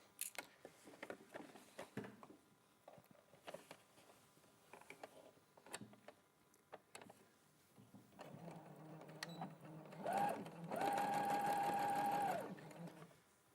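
A sewing machine sews a seam with a 1.5 centimetre allowance. Light handling clicks and rustles come first, then the motor whirs steadily for a few seconds near the end, close but fairly quiet.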